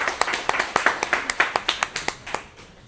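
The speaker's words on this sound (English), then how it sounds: "please give a round of applause to Alexander Avant" Applause from an event audience welcoming the host of a founders-and-investors talk in a large room, heard as a short burst of uneven, fairly close claps that thin out and fade over about three seconds.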